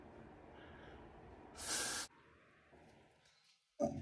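A short, bright burst of lace holding spray hisses for about half a second amid quiet room noise, followed by a brief thump near the end.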